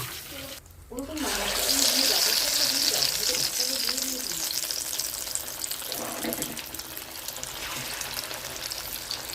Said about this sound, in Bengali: বাদ বাকি যে কটা আছে সব এভাবে দিয়ে ভেজে তুলে নেব।